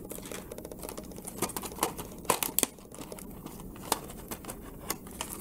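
Close, crisp crinkling and light clicking while a large metallic paper clip from Target is handled for a papercraft embellishment, irregular rustling taps with a few sharper snaps.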